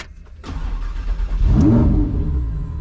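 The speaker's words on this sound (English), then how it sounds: "you can really never get tired of that V10, especially at startup" A Lamborghini Huracan EVO Spyder's V10 engine cranks and fires up with a loud roar, then settles into a deep, rumbling idle close by.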